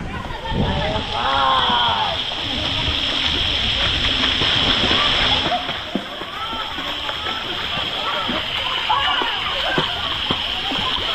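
A child swims in a resort pool and churns the water, making steady sloshing and splashing close by while adults talk over it throughout.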